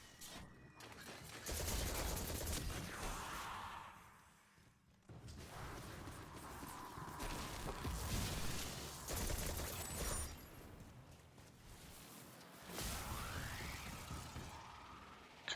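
Special weapon firing in Destiny 2 during a Season of the Deep story mission, sounding as repeated loud bursts of gunfire with mechanical clicks and whooshes that fill the stretch without speech.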